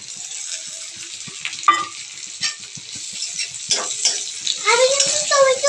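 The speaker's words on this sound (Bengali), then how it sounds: "এবার পেঁয়াজগুলো একটু ভাজা ভাজা হয়ে এলে দিয়ে দেবো" Onions fry in hot oil in a pan while chicken kurma is cooked in a home kitchen. A steady, soft sizzle is broken by scattered stirring clicks and scrapes, and a brief voice rises near the end.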